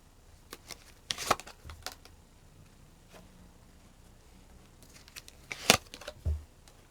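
Message cards are shuffled and drawn, giving soft papery riffles and flicks. There are a few quick bursts near the start and a louder flurry toward the end, with quiet gaps between them.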